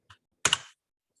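Computer keyboard keys are typed in Excel, giving a faint single tap and then a short cluster of quick clicks in quiet surroundings.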